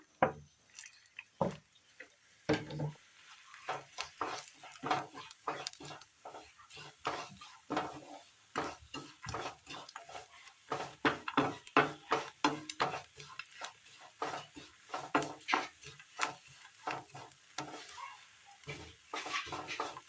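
A coconut mixture roasting in oil in a pan, with frequent scraping and clinking of a spoon against the pan over a soft sizzle, close and busy throughout.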